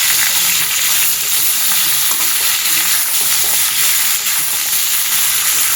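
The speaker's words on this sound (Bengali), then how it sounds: "এইভাবে একটু ভালো করে ভেজে নেব।" Pointed gourd and potato pieces fry in hot oil, giving a loud, steady sizzle that runs unbroken throughout with no talking.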